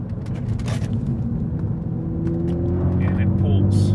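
A 2018 Ford Focus ST with a limited-slip differential and winter tires powers out of a tight turn, its engine droning and rising steadily in pitch with low rumble, while someone talks over it inside the car.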